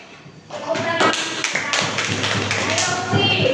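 Classroom clapping, a burst of quick taps and hand claps from pupils mixed with chatter and voices in the room, steady and fairly close throughout.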